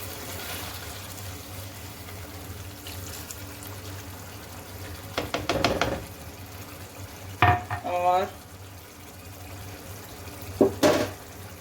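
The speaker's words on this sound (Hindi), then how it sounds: "अब इसमें मैं यहाँ पे पानी ऐड करूँगी 1 गिलास।" Water poured from a glass into a pan of frying potatoes for aloo qeema, with a few short splashing bursts and sizzling stirs over a steady kitchen hum.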